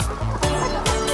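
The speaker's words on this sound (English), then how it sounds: "These are some tasty treats for the chickens." Chickens on a farm cluck close by while pecking at treats, with several short, overlapping clucks repeating in quick bursts.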